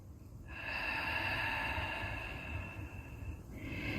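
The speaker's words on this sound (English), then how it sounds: "It comes up as we exhale out through the mouth." A long, breathy exhale out through the mouth during yoga breathing, soft and close, running for a few seconds before tapering, with another breath starting at the end.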